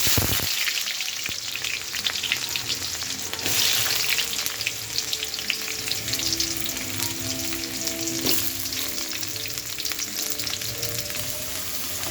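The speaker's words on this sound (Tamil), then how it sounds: "வெங்காயத்தை நல்லா கலரி விட்டுக்கலாம் நல்லா வதங்கட்டும்" Onions fry in a pan for a fish curry, giving a continuous loud, crackling sizzle close up, with occasional stirring scrapes and clatters over the steady hiss and no voices.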